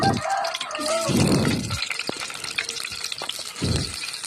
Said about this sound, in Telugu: మొత్తం వంకాయలు అయితే వేసాను ఫ్రెండ్స్. వేగుతున్నాయి.